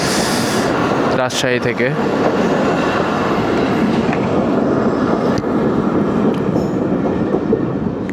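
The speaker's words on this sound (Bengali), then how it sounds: "এটার নাম হচ্ছে টুঙ্গিপাড়া এক্সপ্রেস, গোপালগঞ্জ যায়" Tungipara Express passenger train bound for Gopalganj passing at night in Kumarkhali, a steady loud rumble of wheels and carriages throughout with a brief horn-like tone near the start and people talking briefly.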